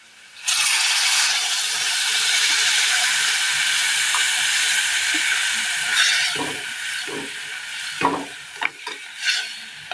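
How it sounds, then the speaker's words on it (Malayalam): Vinegar poured into a hot pan of roasted spice powders for a Kerala curry bursts into a loud, sustained sizzling hiss that fades into softer crackles and a few stirring scrapes. "ഇനി ഇതിലേക്ക് നമുക്കൊരൽപ്പം വിനീഗർ ഒഴിച്ചു കൊടുക്കാം."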